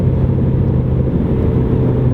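A modified 2013 Ford Mustang GT with resonators and mufflers cruising down the highway at about 2,000 RPM, giving a steady low exhaust drone with road noise heard from inside the car.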